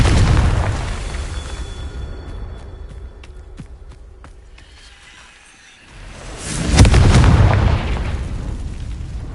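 Confringo spell explosions in Hogwarts Legacy: a loud deep boom that decays over several seconds with crackling debris and small pops, then a second heavy blast near the end, close and powerful.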